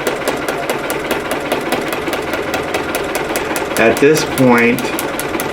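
A sewing machine stitches the outline of a quilted stocking, running close and loud with a fast, even needle rhythm while a person talks over it.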